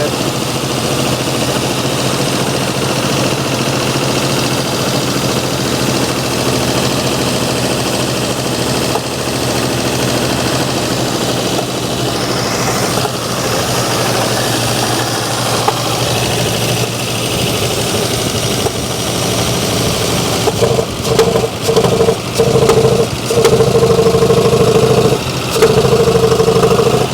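A 1957 Oldsmobile Rocket engine, long abandoned, running after its first start in 30 years, giving a steady loud rumble that roughens near the end, with voices talking over it.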